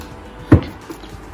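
A vanity drawer gives a single sharp wooden thump as it shuts, followed by a few faint rattles and a softer knock at the end, close by with no talking.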